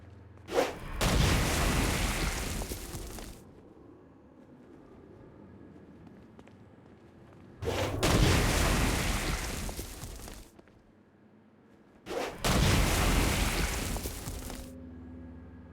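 Three heavy explosions boom one after another, each a dense roaring burst lasting a couple of seconds, separated by quieter gaps.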